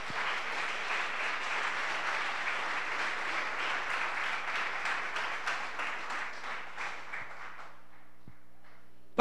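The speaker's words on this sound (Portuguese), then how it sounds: "Então pode aplaudir a Deus todo o seu coração." A church congregation applauds warmly, a dense and steady wash of many hands clapping for about seven seconds before it fades out into quiet room tone.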